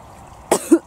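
A single dry cough followed by a short throat-clearing sound, close and fairly loud against a quiet background.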